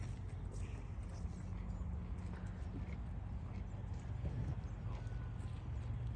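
Goats on a farm fight, their hooves clattering in a dense, continuous patter over a steady rumble of outdoor background noise.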